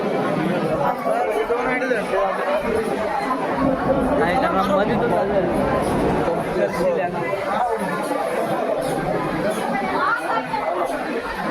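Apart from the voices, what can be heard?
large crowd chatter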